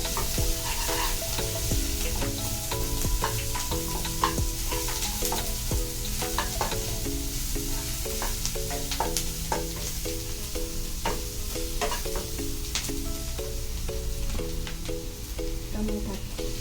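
Chopped onions with ginger garlic paste fry in a pan for a prawn and mushroom sukka, giving a loud, dense sizzle with frequent spatula scrapes and clatter running throughout, close up.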